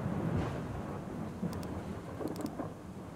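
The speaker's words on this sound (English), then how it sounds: "I think it's still raining out there, isn't it?" Steady rain and a low rolling rumble of thunder in a tropical survival video game, a dense and continuous wash of sound with a few faint clicks above it and no talking.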